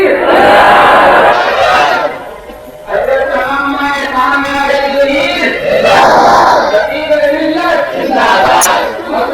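Large crowd at a religious gathering in Shahkot roaring a chanted response to the Nara-e-Takbir slogan, loud massed voices in repeated waves with a lead voice calling between them.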